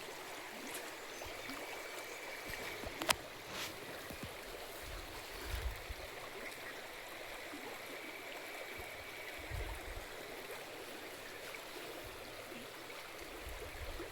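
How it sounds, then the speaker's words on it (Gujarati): Water rushes and trickles steadily from a flooded car being drained, a continuous watery wash with a few brief splashy bursts, heard alone without talk. "જો મિત્રો પાણી કાઢે છે"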